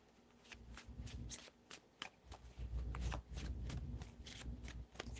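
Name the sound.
tarot cards being shuffled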